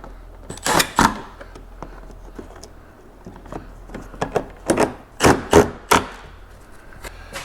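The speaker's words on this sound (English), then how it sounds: "now we can tighten these two Phillips up" Phillips screws being tightened on the front shield of a 2013 BMW X5 give a series of sharp, close clicks and ratcheting taps in irregular bursts, with quiet gaps between them.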